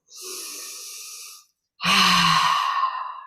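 Slow, deliberate breathing during a guided meditation: a long soft inhale through the nose, a brief pause, then a fuller, louder exhale through the mouth, close and without talk.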